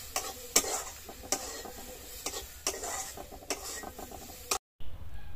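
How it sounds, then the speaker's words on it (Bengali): Moong dal dry-roasting in a pan, a continuous sizzle punctuated by regular scraping stirs of a spatula against the metal, close and unaccompanied by talk, briefly cutting out before resuming. "মুগের ডালটা একটুখানি ভাজা ভাজা করে নিলাম"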